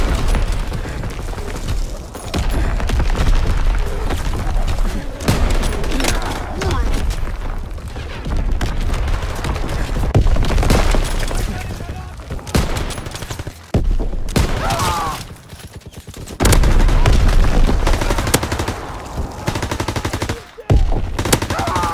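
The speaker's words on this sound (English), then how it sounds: "Incoming enemy artillery. Get to cover." Dense machine-gun bursts and rifle fire mix with booming enemy artillery impacts on a WW2 video game battlefield, loud and near, with brief lulls between barrages and a voice speaking over the combat.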